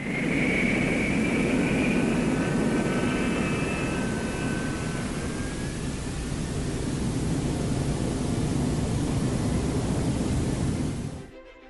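An F-4E Phantom's J79 jet engine runs on the ground, a loud sustained roar with a high whine that fades slightly midway before building again and cutting off abruptly at the end.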